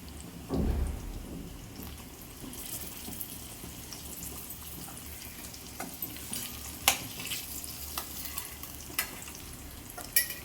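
Eggs frying in a pan, a soft continuous crackling sizzle with a thump near the start and scattered sharper pops and spatters throughout, fairly quiet and close.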